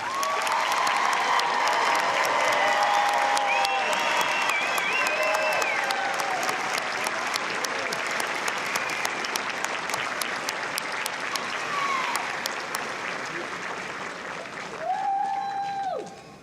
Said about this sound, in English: Let's give all the graduates a round of applause.